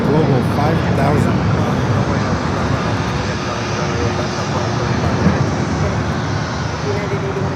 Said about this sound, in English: This is a Bombardier Global 5000.